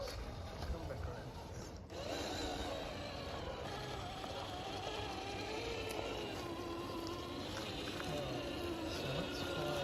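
An FMS FCX10 K5 Chevy Blazer RC car drives along with a steady, whirring electric motor and gear noise, close by and continuous, with a brief drop partway through.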